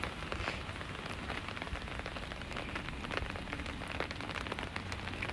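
Steady rain falling on a rainy school day, a dense, even patter spread across the whole clip, close and constant with no talk.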